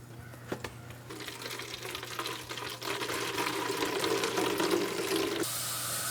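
Water poured from a tap into an old milk carton for a water and vinegar mixture, a steady rushing fill that grows louder and fuller, then changes tone near the end.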